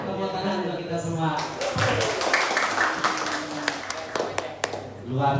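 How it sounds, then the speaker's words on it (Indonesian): Scattered audience clapping at a religious study gathering, a brief patter of hand claps that thins out, over a voice speaking. "Tepuk tangan untuk kita semua."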